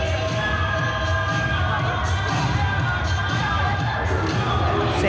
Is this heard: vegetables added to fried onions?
no